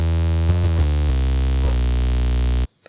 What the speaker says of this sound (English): Nothing special at all, it's just a hard sort of bass sound